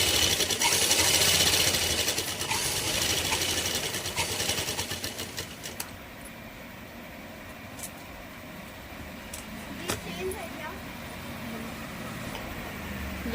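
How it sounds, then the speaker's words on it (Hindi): A sewing machine stitches a blouse with a dense, continuous whir that is loudest at first, then settles into a quieter hum with occasional clicks. "उसके बाद आपको इसे सिल देना है।"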